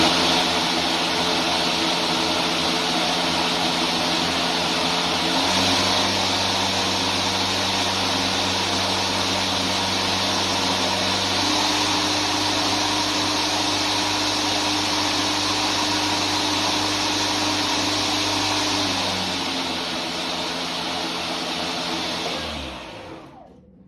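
An EGO LM2236SP battery lawn mower runs on setting 1, giving a steady, loud electric motor whine with a faint shift in pitch partway through, held for over twenty seconds before it winds down at the end.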